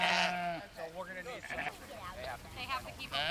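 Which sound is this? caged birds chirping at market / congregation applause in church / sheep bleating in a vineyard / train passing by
sheep bleating in a vineyard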